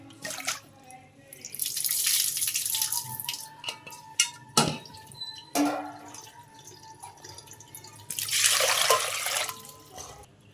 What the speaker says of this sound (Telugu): ఇప్పుడైతే చింతపండుని శుభ్రంగా వాష్ చేసుకోవాలి.